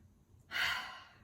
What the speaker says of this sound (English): Take a deep breath in. And then exhale, drop them, let it go.